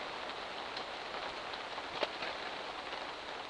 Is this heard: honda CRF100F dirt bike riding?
no